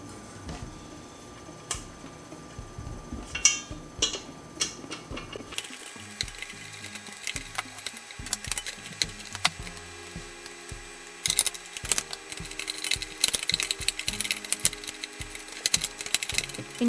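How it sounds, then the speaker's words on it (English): A Phillips screwdriver attaches the handle to a Presto multi-cooker kitchen kettle, giving close, irregular ratcheting clicks and small metallic and plastic ticks and knocks throughout. "you still need a Phillips screwdriver to attach the handle"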